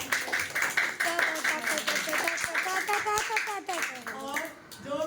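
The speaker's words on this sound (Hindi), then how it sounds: "तो सभी लोग जोरदार तालियां बजाएंगे" Audience at a school or children's event claps rhythmically in an even beat, with children's voices and chatter mixed over the clapping throughout.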